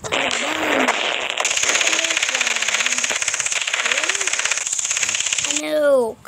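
Rapid automatic gunfire rattles almost continuously in the Garry's Mod video game, loud and dense, with voices talking over it.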